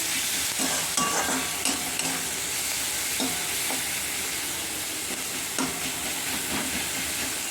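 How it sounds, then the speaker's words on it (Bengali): Onions fry in hot oil for egg dopiaza, a continuous close sizzle with steam. Repeated scrapes of stirring come through, and no one talks. "পেঁয়াজটা একটু লালচে করে ভেজে নিয়েছি আমি।"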